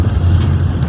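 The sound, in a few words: car driving along a narrow road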